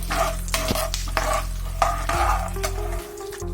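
Lentils fry in a pan while a spoon stirs them, steady sizzling broken by repeated scrapes and clinks of metal against the pan, close and fairly loud, easing toward the end.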